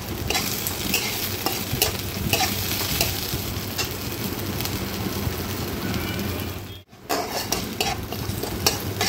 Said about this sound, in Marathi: टोमॅटो पण आपण 1 मिनिट असा भाजून घेऊया